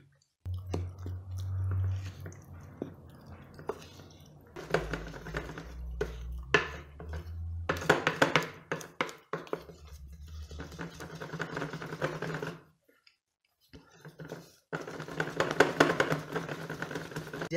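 Electric mixer whipping a butter-free buttercream frosting with lemon, a fluctuating motor whir with clattering against the bowl, stopping briefly and restarting, moderately quiet.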